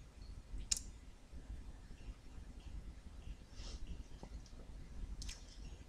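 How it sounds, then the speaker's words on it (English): A computer mouse right-clicked while renaming a file before installing CorelDraw X8 on a PC: a sharp, close click near the start and another near the end, with faint soft ticks between over a quiet background. "Just right click."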